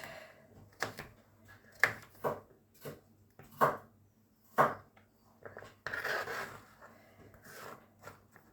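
A knife chops through cooked spaghetti on a board in a handful of uneven, scraping strokes. The cuts are sharp, close and separated by short pauses.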